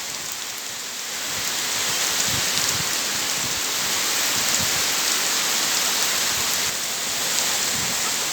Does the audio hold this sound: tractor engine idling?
no